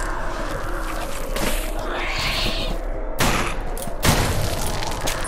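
Two sharp gunshot bursts ring out amid a busy, rumbling background of sound effects in the GZDoom mod Total Chaos, with a few dull thuds.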